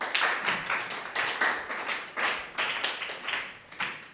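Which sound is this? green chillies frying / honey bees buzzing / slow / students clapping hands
students clapping hands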